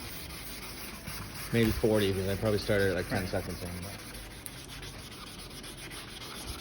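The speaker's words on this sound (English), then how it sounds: "And you're even sanding it more than we did." Sandpaper from a Wurth Canada headlight restoration kit rubs a plastic headlight, giving a steady, soft scraping hiss throughout while a person talks over it.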